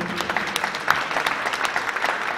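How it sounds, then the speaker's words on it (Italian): An audience applauds at a literary prize ceremony in San Giovanni in Fiore, a steady patter of many hands clapping at moderate distance. "lo salutiamo con un applauso"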